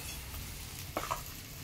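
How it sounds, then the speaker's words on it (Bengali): Pieces of ribbon fish fry in hot oil in a pan, giving a steady soft sizzle with a brief stirring clink near the middle, faint and close with no talking. "সবকটা মাছ আমি ভেজে নেব এইভাবে"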